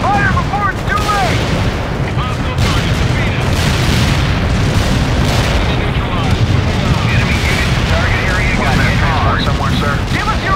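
A heavy artillery barrage pounds a World in Conflict battlefield, a dense, continuous wall of booming explosions and rumbling blasts with occasional crackling gunfire, loud and unbroken from start to finish.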